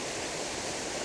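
Water crashing over mossy rocks on a wilderness backpacking trail, a dense, close, continuous roar of white noise with no other sounds.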